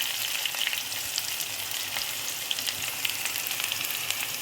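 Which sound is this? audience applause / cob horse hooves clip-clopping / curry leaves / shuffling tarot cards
curry leaves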